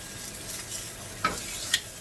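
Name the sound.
T-bone steak being flipped in a sizzling pan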